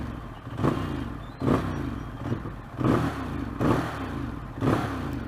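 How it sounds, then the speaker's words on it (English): Ducati Monster 821 with stock exhaust, blipped in five sharp revs spaced about a second apart, each swelling and falling back with crackling pops, close and loud with no talk. "The exhaust on this motorcycle, we just cannot believe that this is a stock exhaust."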